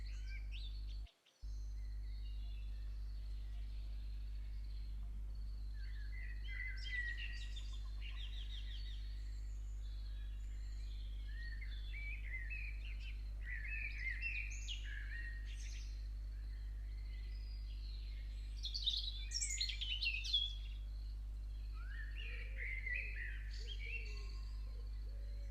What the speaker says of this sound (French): Écoutez le chant des oiseaux pendant que je me tais un instant.